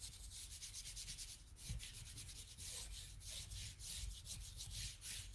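A brush scrubs titanium white paint onto a wall surface in steady repeated strokes, a soft rhythmic rasping close by and quiet, with no voices.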